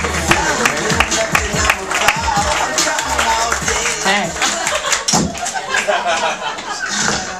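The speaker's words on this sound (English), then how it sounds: "Clap it up as loud as you can for Kaytlin Bailey." A comedy roast crowd claps loudly and steadily for a roaster, dense applause with scattered cheers filling the room, with a voice talking over it.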